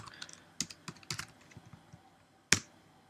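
Computer keyboard being typed on in short irregular bursts of light clicks, then a pause and one louder sharp keystroke near the end, close and alone without talk.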